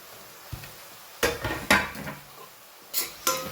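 Green garlic being mixed with onions in a pan, heard as several distinct clanks and scrapes of a utensil against metal, spaced irregularly with quiet gaps between.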